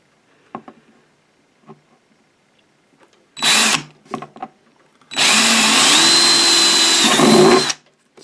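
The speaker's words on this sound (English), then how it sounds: "drill our big hole for the wiring" A power drill bores a large wiring hole into a small ammo can battery box: a couple of short bursts, then a long sustained whine of several seconds, close and loud after a few light taps.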